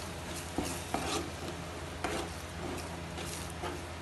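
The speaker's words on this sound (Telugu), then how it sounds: "ఇది ఫ్రై అయ్యాక ఇలా ఆయిల్ పైకి వచ్చాక మనము టొమాటో ప్యూరీ వేసుకోవాలి" Tomato puree being stirred into curry gravy frying in oil for a mushroom curry, a steady close scraping and stirring with a soft sizzle and a few sharper knocks of the spoon.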